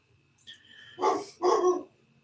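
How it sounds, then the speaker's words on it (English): Dogs bark twice in quick succession, loud and close, after a faint short yelp, with no talking over them. "The dogs are even getting hyped for this match."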